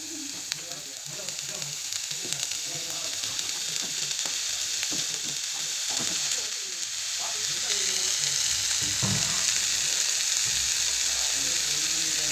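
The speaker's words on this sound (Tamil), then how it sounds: "ப்ரொக்கோலி நல்லா எண்ணெயில் ஃப்ரை ஆகணும்." Boiled, cut broccoli fries in oil with a dense, continuous sizzle that grows slightly louder partway through, along with occasional quieter stirring sounds. No one speaks.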